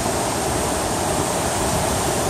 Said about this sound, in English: We've got roaring water